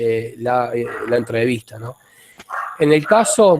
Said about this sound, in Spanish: perdón por los ladridos del perro del vecino.